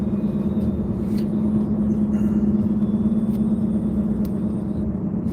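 A steady, loud low rumble of road and engine noise fills the cabin of a car at highway speed, continuous and unchanging, with no talking.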